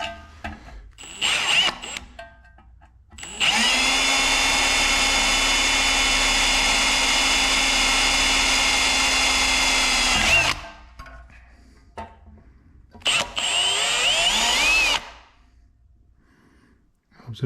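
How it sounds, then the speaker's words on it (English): A power drill whines loudly for several seconds, stops, then runs again in a shorter burst, with some clattering between runs, drilling holes in metal parts of a log splitter being rebuilt. "Let's drill these holes."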